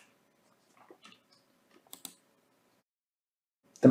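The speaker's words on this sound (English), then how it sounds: "Here I'm going to type Template Deployment." A few sparse, soft keystrokes tap on a computer keyboard in a quiet room, light clicks scattered across a couple of seconds, followed by a louder bump at the end.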